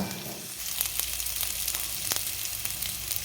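Ginger pieces sizzle loudly in a pan, giving a dense, steady hiss, while a spoon scrapes and clicks several times as the pieces are stirred around.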